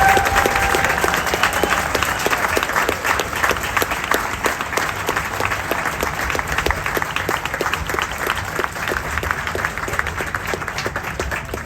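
Dense, sustained applause from an outdoor audience at a park tribute event honoring a community coach, steady clapping filling the whole stretch at close range.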